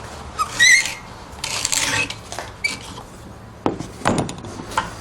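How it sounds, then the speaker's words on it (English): An old planer blade shaves wood while making a rustic stool from a board and sticks: close, dry rasping scrapes in irregular strokes, interrupted by short clicks and knocks. "You can see the shavings dropping off here."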